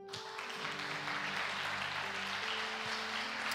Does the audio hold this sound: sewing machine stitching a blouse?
no